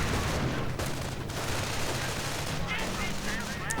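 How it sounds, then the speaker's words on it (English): Anti-tank gun and rifle fire in a World War II strategy video game, a dense continuous roar of overlapping shots and rattling gunfire that stays loud throughout with no clear gaps. "Another anti-tank gun is out, opening up from behind the wall of sandbags."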